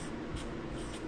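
A word written by hand, heard as a close, steady scratching stroke that runs without a break for about a second, with no speech.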